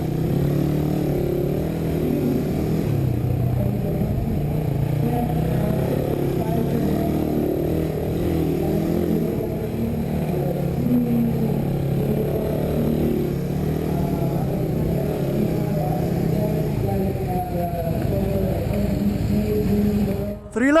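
A 2019 third-generation Suzuki Raider R150 carbureted motorcycle drones steadily while riding laps, its engine hum and wind noise holding a fairly even pitch with slight rises and falls from throttle, and a voice talks over it.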